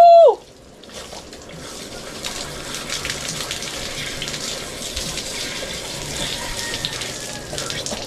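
Fresh water gushes and splashes steadily over someone rinsing off sea salt after swimming, a continuous close pouring wash lasting several seconds after a brief tone at the start.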